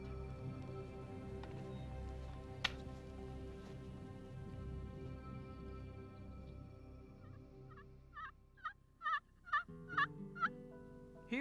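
A lone wild turkey gobbler gobbles several times in quick bursts near the end, loud and close, after a stretch of low rumbling outdoor ambience in the pre-dawn dark.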